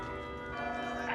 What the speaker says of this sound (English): I think they're really real bells.